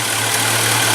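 A 1986 Merkur XR4Ti's 2.3-liter turbocharged engine with performance cam and lifters runs at a steady idle, a loud, close, even drone with a strong low tone and no talking.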